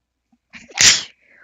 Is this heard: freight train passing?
no